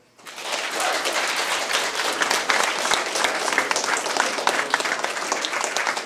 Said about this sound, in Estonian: Anu on küll ära teeninud suure aplausi